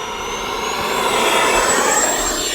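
An FMS Integral 80mm EDF RC jet flies overhead on its maiden flight, a loud, steady ducted-fan whine with a high tone that holds throughout, swelling slightly as it passes.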